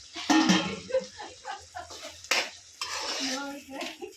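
Mango, drumstick and prawn curry stirred in a cooking pot, with a spoon clanking and scraping against the metal in several uneven bursts, fairly close and moderately loud.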